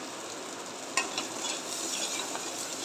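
Garlic paste frying in a pan while being stirred: a steady, close sizzling hiss, with a sharper scrape near the one-second mark and soft stirring strokes continuing over the frying.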